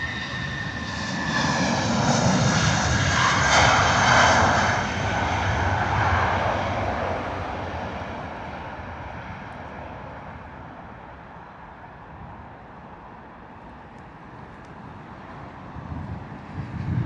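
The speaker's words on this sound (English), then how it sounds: "British Airways flying that Airbus A380." A British Airways Airbus A380 departs Heathrow, its engine roar swelling loud with a whining tone early on, then slowly fading as the jet climbs away.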